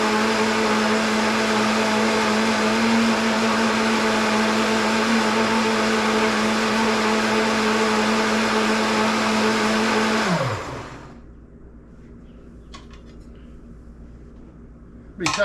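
A blender running on high through jalapeno hot sauce, a loud steady whirring drone that winds down as the motor stops, leaving quiet before a final clunk.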